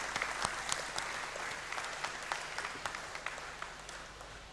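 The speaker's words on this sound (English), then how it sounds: "he deserves another big round of applause" A hall audience at a university congregation ceremony applauds in a dense, sustained round of clapping, with a few sharper individual claps standing out near the front and a faint crowd murmur underneath.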